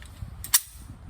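A Colt Mark IV Government .380 pistol fires a single PMC Bronze round, one sharp, close crack followed by a quick decay into quiet.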